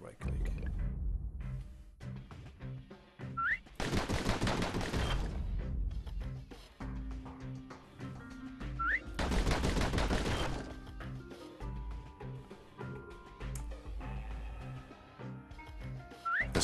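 Pistol gunfire in the video game Bastion, with two loud, dense bursts of shots standing out over the game's music and effects, while a narrator talks through most of the passage.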